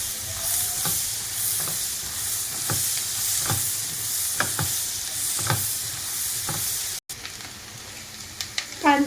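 Two chopped onions frying in a pan for malai kofta, a constant close sizzle with repeated scraping spoon strokes roughly every second, a short cut midway and louder clatter toward the end.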